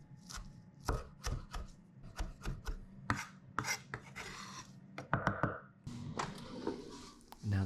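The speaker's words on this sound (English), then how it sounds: "Chop it real fine." A knife chops cilantro finely on a cutting board in a series of sharp, irregular close-up strikes and scraping taps, with no voices.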